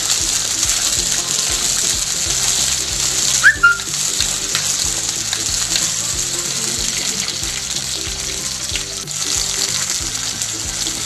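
Fennel seeds, shallots, green chili and garlic fry in hot oil for a catfish curry, giving a steady hiss and sizzle that runs continuously under faint background music.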